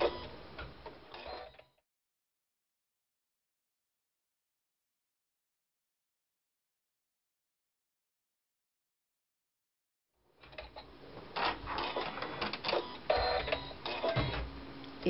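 Embroidery machine stitching a tacking stitch on an in-the-hoop quilt block: a brief mechanical whir, a long silence, then steady ticking and whirring close by with no voices.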